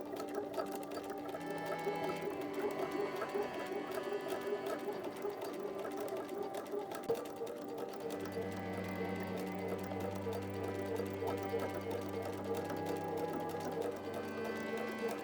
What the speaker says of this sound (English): go ahead and stitch along this inner folded edge all the way down